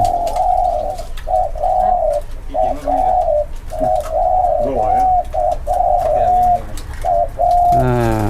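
Repeated cooing of nok khao doves at a busy Thai dove-keeping camp, short mellow coo phrases coming in quick rhythmic bursts, close and fairly loud, with a brief spoken voice near the end.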